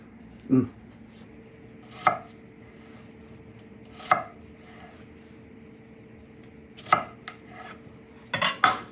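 A kitchen knife chops vegetables on a cutting board for pickling, with about six sharp, separate knocks spaced a second or two apart and a faint steady hum underneath.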